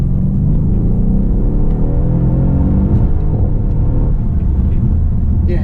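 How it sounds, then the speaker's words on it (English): Exhaust of a Mercedes-AMG S 63 Coupe on the road, a loud continuous low rumble with a rising engine note and a few faint pops and grunts, heard from inside the car. "The exhaust note gives you those little burbles and the grunting sounds"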